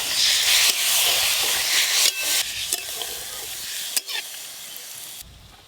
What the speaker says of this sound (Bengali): শিল ধোয়া জলটাও দিয়ে দেবো